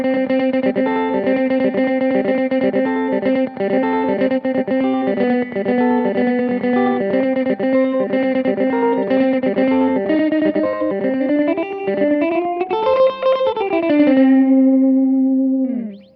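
Guitar through a Cosmodio Splinter Twin modulation pedal set for a delay, a dense, shimmering run of repeating notes with chorus-like wobble, ending in a bending pitch swoop that settles on a held note, steady and loud.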